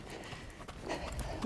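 A horse's hooves thud on the ground during canter transition training, with a brief run of muffled beats over a noisy background.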